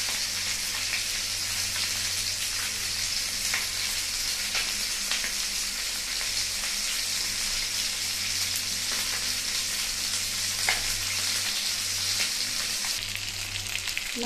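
A salted katla fish head frying in hot oil, spluttering and crackling loudly and continuously, with a dense, even sizzle and no talk.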